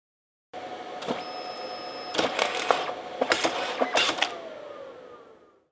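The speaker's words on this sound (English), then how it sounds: "As you saw, it prints very fast." A professional dye-sublimation photo printer runs through a print, whirring motor passes broken by sharp mechanical clicks and clunks, close and fairly loud, then spinning down to silence at the end.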